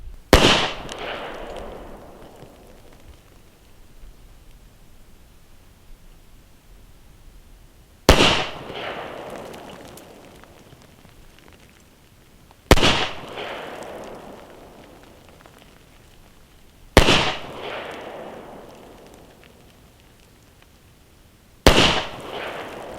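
Handgun shots fired at 25 meters while zeroing a reflex optic on an outdoor range: five loud, sharp single reports spaced several seconds apart, each with a decaying echo tail.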